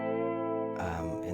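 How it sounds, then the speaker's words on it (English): Vongon Ultrasheer pedal running reverb into vibrato, a sustained guitar chord shimmering with a wavering, washed-out tail that shifts into a brighter, denser smear partway through. "In this certain setting, it does like the reverb into the vibrato."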